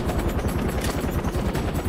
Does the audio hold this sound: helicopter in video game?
yes